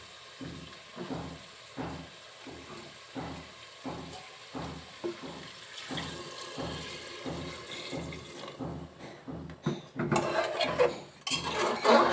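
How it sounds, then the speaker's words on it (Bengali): A pot of desi chicken curry with potatoes is scraped in a steady rhythmic stir, then hot water is poured in, bringing a rushing, bubbling splash near the end. "এখন এর ভিতরে আমরা দিয়ে দিব গরম পানি।"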